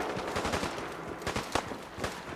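Rapid bursts of automatic machine gun fire in the video game Fallout 4, close and loud, with sharp repeated shots in uneven clusters during a firefight.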